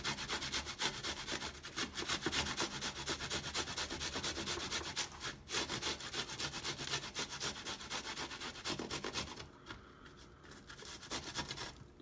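Garlic cloves are rubbed rapidly against a grater in a continuous, close, rasping scrape with quick rhythmic strokes and a brief pause near the end; no talking.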